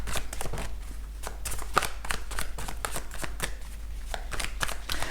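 Tarot cards being shuffled for a card reading, a quick run of crisp riffling flutters and slaps repeating steadily and close, with no talking.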